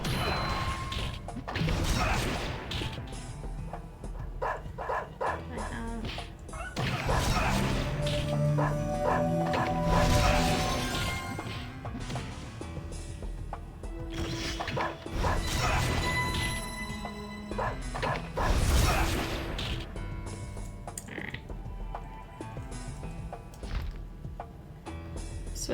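Beetle wolves bark in the video game Mabinogi, their yips tangled in a dense, continuous mix of game music, thuds and crashing combat hits that runs at steady loudness throughout.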